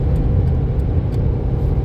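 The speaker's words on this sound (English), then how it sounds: "something as simple as driving down the road like I'm doing right now" A car driving down the road, heard from inside as a steady, loud low engine and road rumble that runs without a break and with no talk over it.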